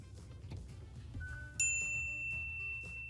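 A car's rear-seat reminder chimes a clear bell-like ding that lingers and rings out over a low background hum, sounding once near the start of a quiet cabin.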